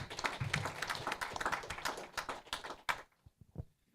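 An audience at a venture capital panel claps for a videographer in a fairly close, scattered round of hand claps that thins out and stops near the end.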